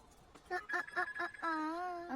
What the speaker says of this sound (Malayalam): നിന്റെ ഫോൺ അടിക്കുന്നുണ്ട്